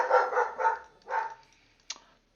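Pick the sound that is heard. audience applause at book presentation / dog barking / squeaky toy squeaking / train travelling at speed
dog barking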